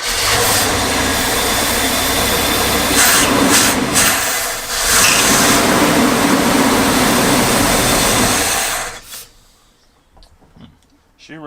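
An abandoned camper's engine runs steadily and loud for about nine seconds, then cuts off abruptly into near silence with faint background noise.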